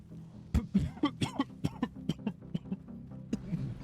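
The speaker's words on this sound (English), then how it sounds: "Sorry for coughing in people's ears." Someone at a gaming stream has a run of harsh, close coughs, about a dozen bursts in quick succession with brief pauses, followed by a rougher throat-clearing rasp.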